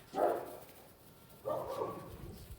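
A pet dog barks twice indoors at home, one short bark then a longer, rougher one, fairly faint and with no talking.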